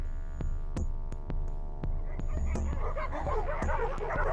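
Farm dogs bark and yip in sharp bursts while chasing a leopard toward a fence, heard from a distance and fairly faint, with whimpering yelps and a chaotic flurry of barks building toward the end.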